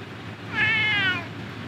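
A cat inside a vehicle gives one drawn-out meow, clear and fairly close, rising out of a low background rumble.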